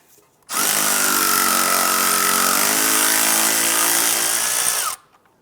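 Power tool with a 10mm socket spinning out the bolt that holds the ABS sensor to the steering knuckle on a 2001-2005 Honda Civic, a loud steady whir starting and stopping abruptly and lasting about four seconds.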